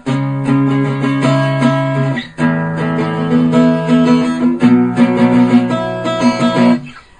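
Acoustic guitar strumming the intro of a song, a down-down-up-down-up pattern on a chord alternating with the high strings, steady and close, with no talking.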